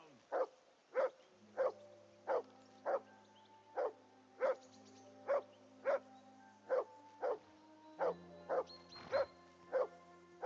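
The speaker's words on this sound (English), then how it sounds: "Be quiet, you flea-bitten hound." A dog in Kingdom Come: Deliverance 2 barks steadily, about two sharp barks per second, close and clear over a quiet game background, with a low hum and a short scuffle near the end.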